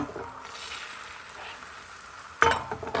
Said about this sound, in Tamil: பேனில் கொஞ்சமாக நெய் வச்சு விட்டுட்டு முட்டையை சேர்த்துக்கோங்க